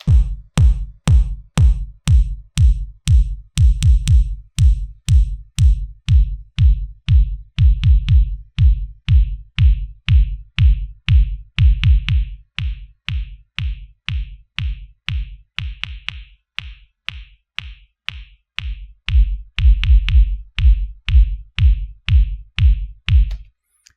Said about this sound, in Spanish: vemos cómo cambia drásticamente el bombo original hasta transformarse en otro tipo de bombo